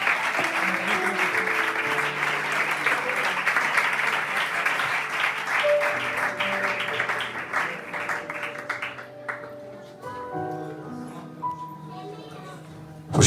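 A church congregation claps steadily and fairly loudly for several seconds. The applause thins out toward the end, leaving sustained musical tones and some voices.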